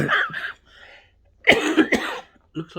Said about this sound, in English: I've still got the cough, the COVID-19 cough